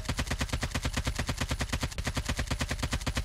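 An AK47 fires full-auto in Call of Duty Mobile, a rapid, evenly spaced burst of punchy shots repeating for about three seconds with no pause.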